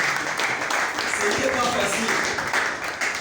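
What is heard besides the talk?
audience applauding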